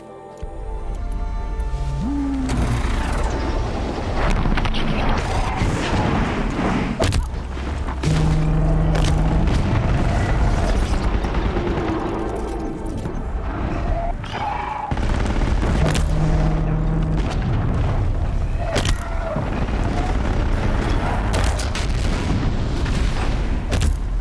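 Flame bombs go off in the game Horizon Zero Dawn amid a chaotic, continuous battle mix of booms, blasts and crackling fire, with loud bursts recurring across the span and no talking.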